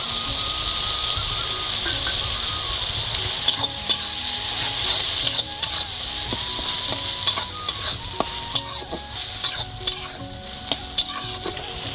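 Mustard paste is worked into a frying pan of potato, eggplant and greens, with a steady hiss of frying under repeated scraping and clinking spoon strokes that grow busier toward the end, close and fairly loud, no voices.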